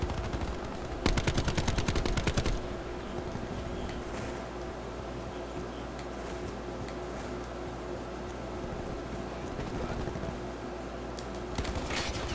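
Rapid automatic gunfire in Black Ops 4, a loud burst of close shots lasting a couple of seconds, then a steady noisy battlefield rumble and a brief second burst near the end.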